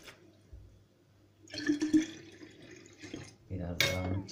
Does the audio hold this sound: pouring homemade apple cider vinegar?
yes